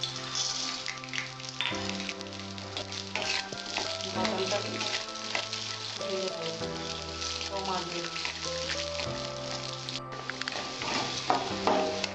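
Peanuts frying in a small amount of mustard oil in a pan, a steady crackling sizzle running throughout, with music playing over it.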